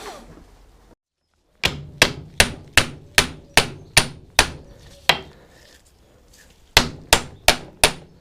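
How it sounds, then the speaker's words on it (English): A hammer strikes around the edge of a suspension joint on a VW Golf GTI, sharp metallic blows landing in quick regular runs, a pause, then another quick burst, loud and close. "I was hitting that with a hammer"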